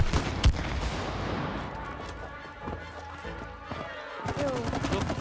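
Gunshots fire in the co-op game It Takes Two, a scattered run of sharp pops and a closing rapid burst, mixed with game sounds and people talking.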